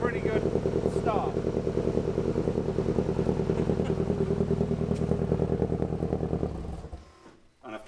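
The Mexorcist Mk2 engine idles at about 1100 RPM on its first start-up, a loud, steady, lumpy rumble with fast pulsing beats that abruptly dies near the end.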